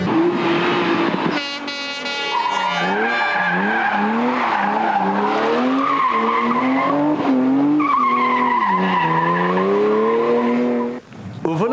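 A BMW 325i rally car slides through a stage of the Boucles de Spa, its tyres squealing in long wavering tones over a steady engine roar, loud and close throughout.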